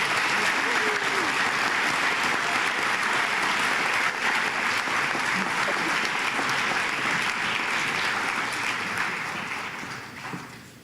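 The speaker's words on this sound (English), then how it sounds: "can we please have a warm round of applause for the first row of inductees?" Warm, continuous applause from a high school honor society induction audience for a row of inductees, a broad steady roar of clapping lasting around ten seconds before tapering off at the end, with faint crowd murmur underneath.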